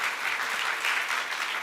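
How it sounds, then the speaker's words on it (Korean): Church congregation gives brief, steady applause during a Sunday service in encouragement of the men's evangelism team. "박수 한번 여러분 해주세요. 격려 박수 한번 해주시고"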